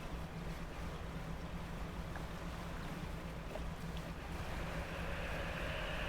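A water spout at sea in the video game Dredge makes a constant roar of rushing wind and churning water. The sound stays broad and steady, then swells slightly toward the end.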